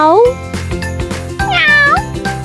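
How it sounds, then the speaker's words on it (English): A cat meows twice, a rising-and-falling mew then a longer higher one, loud and close over a bouncy children's music backing with light jingles. "Cat says meow."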